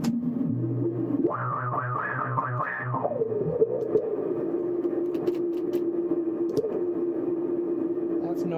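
Noisy hiss from a Q-Tron guitar effects pedal on a pedalboard, a steady filtered buzz holding throughout after a brief swelling tonal burst near the start, fairly close and continuous.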